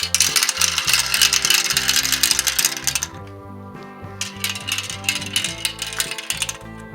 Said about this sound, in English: These kiddos are really getting into the marble run